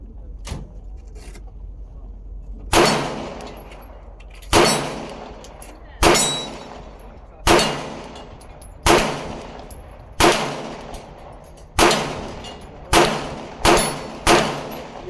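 An Echelon 4.0 FC pistol fitted with a red dot fires about ten sharp, loud shots at a fairly regular pace, each crack ringing out and trailing off outdoors, with a faster pair near the end.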